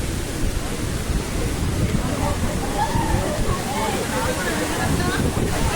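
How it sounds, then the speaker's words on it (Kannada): Rushing water at Vibhuti waterfalls pours in a steady, dense wash, loud and close throughout, with a faint voice murmuring underneath at times. "ನೋಡಿ, ಇದೇ ವಿಭೂತಿ ವಾಟರ್ ಫಾಲ್ಸ್."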